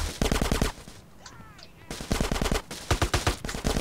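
Bursts of rapid gunfire from a GTA San Andreas mission, loud and close, with a brief lull in the middle before several more sharp volleys crackle out.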